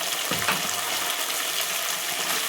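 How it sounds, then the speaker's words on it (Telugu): Chicken, potato and chana dal curry with ginger-garlic paste and turmeric sizzles in a pan as it is stirred, a short, even, hissing fry with no talk. "మంచిగా కలుపుదాం."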